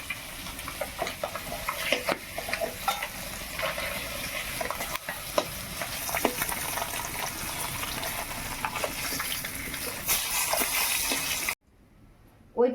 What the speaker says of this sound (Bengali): মাছটা খুব একটা ফাড়া ফাড়া করে ভাজার দরকার নেই, হালকা একটু ভেজে নিলেই হবে।